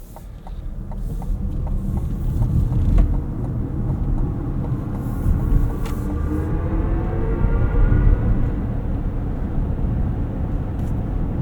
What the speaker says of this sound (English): That is the sound that it makes in sport mode.